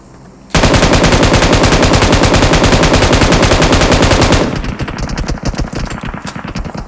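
Automatic gunfire in PUBG Mobile rattles out in a long, loud, rapid burst for about four seconds, then continues as quieter, more distant firing.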